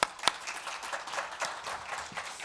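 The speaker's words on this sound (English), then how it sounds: "once more applause for Bojan" Audience applause closing a fireside chat on AI implementation in organizations, a steady patter of many hands clapping at moderate distance with a few sharper claps standing out, no voices over it.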